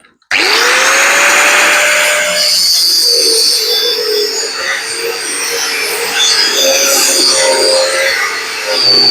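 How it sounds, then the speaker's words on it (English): A power tool cuts a coil off a car's coil spring while lowering a VX Commodore, a loud, steady, continuous grinding whine that starts abruptly and runs for several seconds, close by. "We're just going to cut one coil out."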